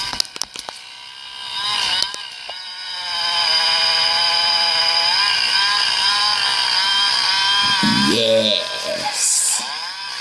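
A chainsaw in the video game Farming USA 2 revs up and holds a steady buzzing whine while cutting through a tree, loud and close, then winds down near the end with a brief mechanical clatter.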